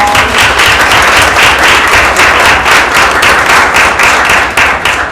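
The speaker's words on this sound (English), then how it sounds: "I think that deserves a round of applause" Sustained applause from a sizable crowd at a school board meeting, dense steady clapping that stays loud throughout with no voices breaking through.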